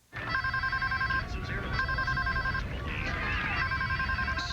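A telephone rings in a TV advert, repeated electronic bursts of ringing in a steady pattern, with voices talking quietly beneath.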